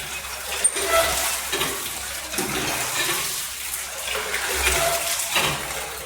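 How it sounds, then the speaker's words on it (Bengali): Water gushes from a freshly repaired hand pump, a steady splashing and trickling flow that rises and falls in pulses close by, with faint voices in the background. "এই দেখো কলে জল উঠছে"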